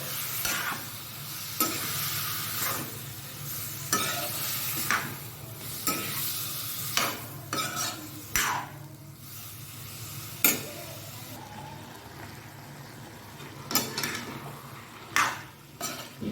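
Papaya pieces sauté in hot ghee in a pan for halwa, a steady soft sizzle broken by repeated scraping stirs and clinks of a spoon against the pot, close and without talk.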